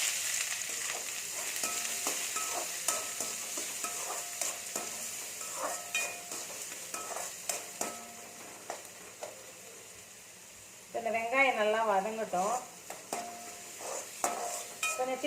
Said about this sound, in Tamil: இப்போ வந்து வெங்காயம் நல்லா வதங்கிடுச்சு